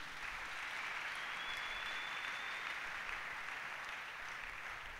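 A church congregation applauds together in a steady wash of clapping that holds at an even level throughout, with no voices rising above it.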